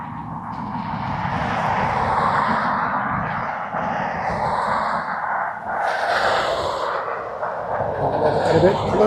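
A British Airways airliner at a windy Dublin Airport gives a steady, loud broadband engine roar that swells near the end, with wind noise and a voice talking over it.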